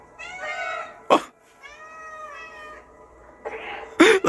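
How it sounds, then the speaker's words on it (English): Cats in the video game Stray meow in two drawn-out, wavering cries close by, broken up by sharp bursts that sound like coughs or thumps. "Lecter, those cats aren't real."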